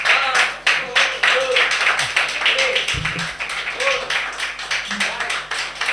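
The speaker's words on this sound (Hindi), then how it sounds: "जोरदार तालियां हो जाए" An audience claps steadily for a performer, with dense, fairly loud applause running throughout, interrupted briefly by a low thump.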